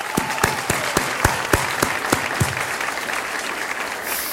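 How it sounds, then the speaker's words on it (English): Audience at a 40th anniversary celebration for International Communication Studies breaks into applause, a steady patter of many hands with a few sharper individual claps, fairly close and sustained throughout. "that deserves applause"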